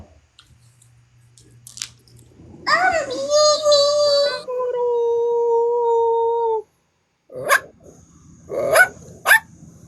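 A person's voice imitates a dog, giving a drawn-out howling bark followed by a few short, sharp yelps after a pause, loud and close with faint background voices.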